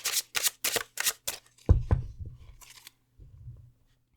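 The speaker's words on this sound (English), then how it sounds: "let me shuffle the rest of these cards." Tarot cards being shuffled by hand, a run of five crisp riffling bursts followed by softer handling and shuffling sounds, close and alone with no talk.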